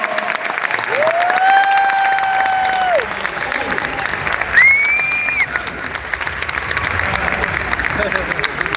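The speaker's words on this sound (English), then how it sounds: "Let's give Johnson a round of applause." Steady applause from an audience fills the clip, with a few whistled or sung tones rising above the clapping.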